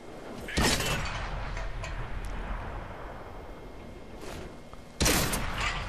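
Tank cannon fire in World of Tanks on Xbox 360, two sharp loud blasts a few seconds apart, each followed by a rumbling decay, with quieter game ambience between them.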